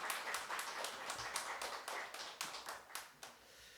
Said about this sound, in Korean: 우리 다시 한번 박수로 감사를 표하도록 하겠습니다.